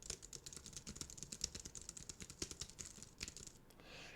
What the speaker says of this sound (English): The responsiveness of the keyboard is pretty nice. I like how it sounds.